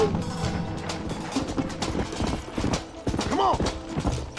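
Horse hoofbeats in the western video game Red Dead Redemption, a quick clip-clop rhythm close by, mixed with voices shouting and talking over it.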